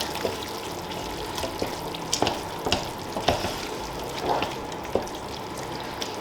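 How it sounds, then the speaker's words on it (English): Bolognese sauce bubbles and sizzles in a pot with a constant low crackle, while a spoon scrapes and knocks a few times as it is stirred; no talking. "So we're going to take it out, give it a wee stir."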